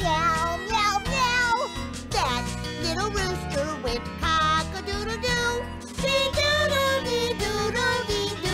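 A singing voice imitates a cat's meow in a children's farm song, with long melodic meowing notes over music, pitched a semitone lower.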